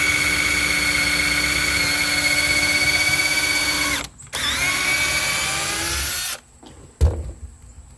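A power drill whines at high speed, briefly pauses, bites into thick wood with a falling pitch, then stops, followed by a clunk and quiet.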